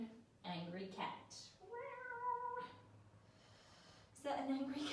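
A voice imitates an angry cat during a beginner yoga cat-and-cow stretch, producing drawn-out yowling, hissing sounds in several bursts, close and moderately loud.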